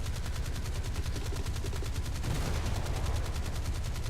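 Fletcher destroyer naval guns fire in War Thunder as a rapid, evenly spaced volley of loud, close reports. Heavy low rumble runs underneath, with no talking.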